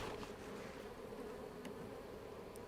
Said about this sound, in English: because those foreign bees are in there